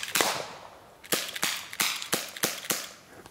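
A .38 revolver fires six sharp shots, one isolated crack followed by five more in a quick, fairly regular rhythm, each loud and close with a short ringing decay.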